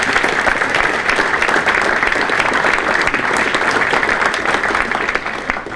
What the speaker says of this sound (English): Let's have a big round of applause for all of them again